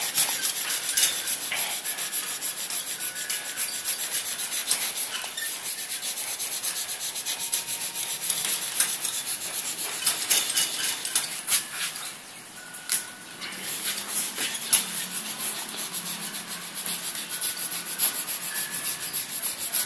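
Rust scrubbed off aluminium with multipurpose scouring powder: a steady, gritty rubbing that continues almost unbroken for twenty seconds, with faint birdsong in the background.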